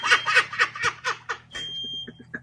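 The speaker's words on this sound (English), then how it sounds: "There goes the fire alarm." A smoke or fire alarm in a home kitchen, set off by cheese burning in the oven, starts up as a thin, steady high beep partway through. Laughter and lively voices come before it and carry on over it.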